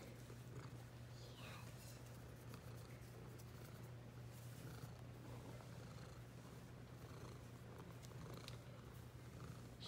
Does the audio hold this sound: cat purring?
yes